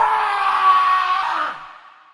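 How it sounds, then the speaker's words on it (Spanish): A harrowing scream rings out on a village main street, one long, loud, piercing wail that holds steady and then fades away. "se escuchaba un alarido desgarrador"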